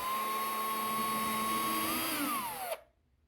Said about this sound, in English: and then we proceed to drill